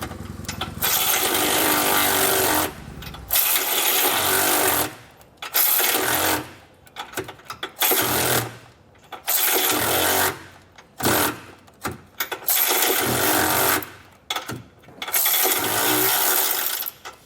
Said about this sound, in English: We'll grab an 18mm size socket and get those removed.